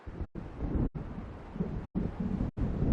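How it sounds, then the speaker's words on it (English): Low rolling thunder from an approaching storm in the game Alan Wake, a steady rumble broken by several short silent gaps, with wind-like noise over it. "It seems there's a storm coming."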